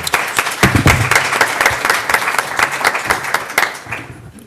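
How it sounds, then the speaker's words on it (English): Audience applause at a panel on development partnerships with faith-based organizations, many hands clapping in a dense, fairly loud burst that swells and then thins out and fades toward the end. "Round of applause for Richard."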